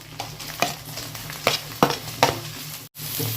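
Chopped tomatoes and slit green chillies hit a frying pan, sizzling steadily with a few sharp scraping stirs and spatula knocks at close range, no talking.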